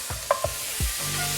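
Onions hit hot olive oil and butter in a pan, giving a soft sizzle with a few sharp stirring knocks and scrapes over a short moment, no voices.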